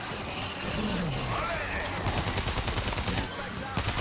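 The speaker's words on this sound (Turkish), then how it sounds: "Salak tabancayla savaşıyorum oğlum ya." Gunfire crackles in the zombie shooter World War Z, a pistol popping off a quick run of sharp shots amid game noise, dense and fairly close.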